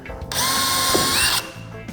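A power drill boring a pilot hole while fitting a motorization kit to a Newport NK300 trolling motor, one loud close burst of steady whirring lasting about a second, spinning up and cutting off sharply.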